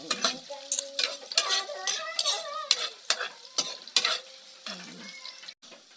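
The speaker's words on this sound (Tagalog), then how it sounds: "Saute lang natin. Saute! Hanggang sa ma-brownish na siya." Sautéing in a pan until browned: a steady sizzle with repeated scraping stir strokes of uneven rhythm, close and fairly loud, with no talking.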